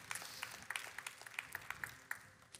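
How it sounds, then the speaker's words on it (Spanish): A church congregation applauds at a Wednesday service, faint and distant scattered claps with a few sharper individual hand strikes standing out against the thin wash. "Dele ese fuerte aplauso al Señor"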